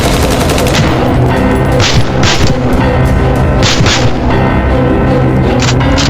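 Dense, continuous gunfire and booming blasts in a WW2 zombie horror setting, rapid automatic bursts layered with heavy explosions, loud and unbroken throughout.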